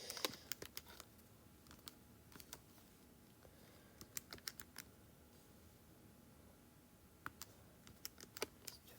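Quiet typing on a computer keyboard, with scattered bursts of key clicks and pauses between them and no talking.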